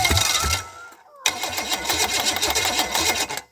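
A cheap Chevy 305 rebuilt engine on points ignition cranks and turns over loudly and close up, cuts out briefly near one second, then keeps churning with a rough, knocking rattle and no talking.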